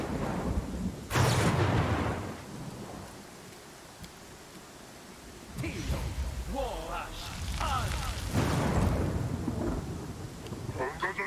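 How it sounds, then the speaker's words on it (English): Heavy thunder rumbles from a lightning storm in the video game Pathfinder: Kingmaker, with one loud crack early and further booming rolls under game sounds and chatter. "Oh, that lightning is pretty intense."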